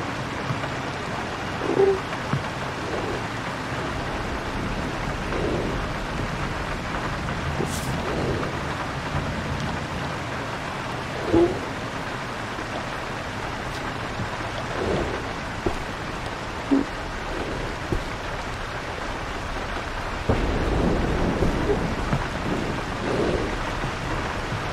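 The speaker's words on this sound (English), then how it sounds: "It's not likely a small thing like this thunderstorm's gonna wake you up" Steady rainfall and rolling thunder in the horror survival game DarKnot, a continuous wash of rain with scattered thunder rumbles and a heavier downpour surge near the end.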